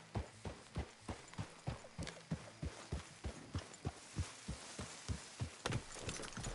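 Steady clip-clop of a horse's hooves in a video game, an even rhythm of distinct, close hoofbeats continuing throughout with no talking.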